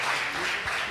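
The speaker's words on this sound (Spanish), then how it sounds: "Démosle un aplauso al Señor." Church congregation applause during a Sunday service, a short, fairly quiet wash of clapping lasting about a second.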